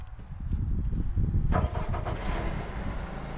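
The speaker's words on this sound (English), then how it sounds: "I'm going to start the engine back here." The diesel engine of a Terex Achiever TC-55 tracked aerial lift cranks and catches, then settles into a steady low idle rumble close by, with a brief rise in pitch as it fires.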